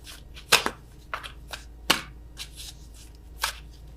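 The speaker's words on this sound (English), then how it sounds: "I am awful at attempting to shuffle these." Tarot cards being shuffled by hand in a few clumsy bursts, with crisp riffling snaps separated by short pauses in a quiet room, close and fairly loud, with no talking.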